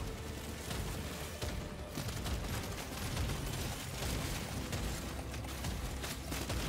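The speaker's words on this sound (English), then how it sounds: "Now they explode" Enemies blow up in Deep Rock Galactic: Survivor, a steady barrage of overlapping pops, booms and crackling gunfire filling the whole stretch at even, dense intensity.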